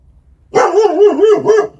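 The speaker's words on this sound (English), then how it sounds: "My dog is barking at absolutely nothing." A single dog lets out a short run of three or four quick, close barks in under a second and a half, loud against a quiet background.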